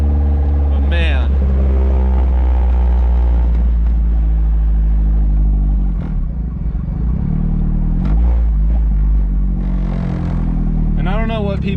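A newly built forged 1.6L compound turbo Miata engine drones loud and close from inside the car while it drives, rising and falling in revs with brief spikes. Speech can be heard over the engine.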